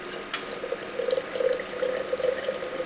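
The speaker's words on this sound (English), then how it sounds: "I'll just top it up with water" Water pours from a tap into a measuring cup to top up freshly squeezed orange juice, a steady, close trickle with a gurgling, bubbling texture and no talk.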